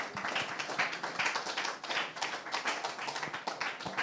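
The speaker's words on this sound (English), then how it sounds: "let's give them a huge round of applause." A conference audience at a Parkinson's care panel gives a round of applause, a steady wash of many hands clapping at moderate volume without speech.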